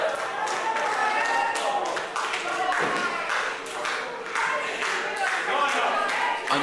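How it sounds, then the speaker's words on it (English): A wrestling crowd at a show in Harold Hill clapping in rhythm and cheering, steady sharp claps throughout with a commentator talking over them. "And you can hear the crowd building behind Ryan."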